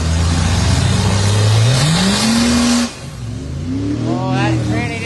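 A race car engine revving hard as its strained transmission struggles, the pitch climbing in a long rising sweep, cutting off abruptly, then building again, loud and close.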